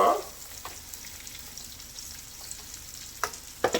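Pork loin sears in an oiled frying pan with a steady soft sizzle, broken by a few louder crackles and clatters as the meat is flipped.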